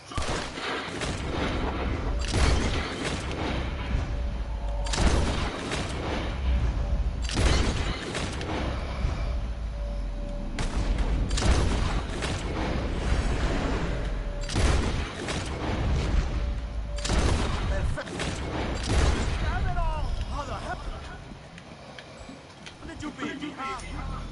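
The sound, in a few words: gunshots at bottles in Red Dead Redemption 2 video game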